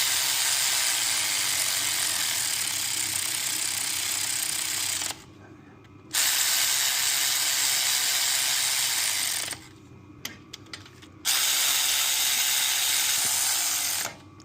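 A ratchet snugs down bolts on the top end of a turbo LS1 engine in a Datsun 240Z. A loud, steady mechanical whir runs for several seconds at a time and breaks off twice into short quiet gaps.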